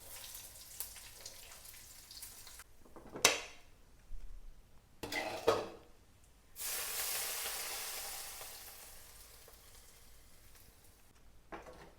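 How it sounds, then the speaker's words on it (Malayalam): Mustard seeds, dried chilies and curry leaves hit hot oil in a small pan, producing sharp bursts of crackling sizzle followed by a longer, softer frying hiss, with a few faint clinks of utensils. "എണ്ണ ചൂടായിട്ടുണ്ട്. കടുക് ഇട്ട് കൊടുക്കാം."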